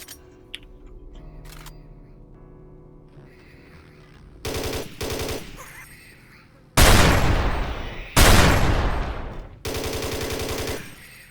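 Gunfire from the game Doom 3 with the Perfected Doom 3 mod: loud rapid automatic bursts in several long stretches, interspersed with single shots and quieter gaps, sharp and close.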